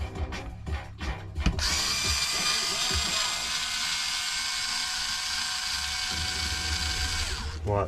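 A power driver whirs steadily while backing screws out of the rear bumper of an MJX 10210 RC car, close and continuous for several seconds after a few short clicks and handling noises.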